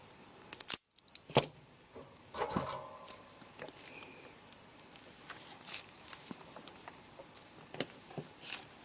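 Wire snipped with cutters while building an LED dance top powered by 18650 cells; a few sharp close clicks and snips stand out over quiet handling noise.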